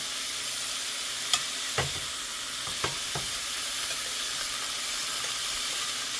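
Chicken thighs browning in a hot skillet give a steady, even sizzle and hiss, close by, with a few brief clicks and knocks of utensils on top and no voices.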